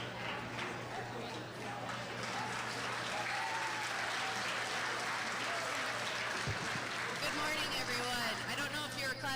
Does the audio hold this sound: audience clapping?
yes